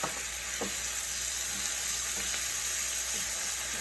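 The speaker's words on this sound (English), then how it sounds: "I'm adding in a little bit more water" Chicken livers frying in a pan on a stovetop as a little water is poured in, giving a steady hiss and sizzle with a few soft clinks, fairly quiet and close with no talking.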